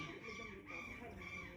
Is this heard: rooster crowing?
yes